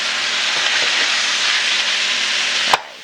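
Ground beef browning in a frying pan, a steady close hiss of sizzling fat that runs unbroken and ends in a short knock as the pan is touched.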